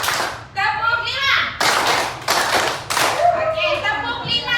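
Children in a classroom perform a rhythmic clapping pattern, with sharp groups of hand claps spaced through the clip and young voices chanting along between and over the claps.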